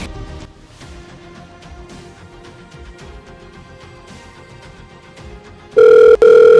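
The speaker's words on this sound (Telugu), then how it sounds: "రింగ్ అవుతుంది సార్." Faint ringback tone of a telephone on an outgoing call pulses under a low background murmur, followed by a loud, steady tone near the end.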